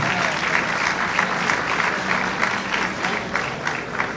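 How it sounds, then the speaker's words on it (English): An audience in a ballroom at a Greek gala gives dense, sustained applause with crisp, overlapping claps at a steady level, filling the hall without interruption. "Please give this man a round of applause."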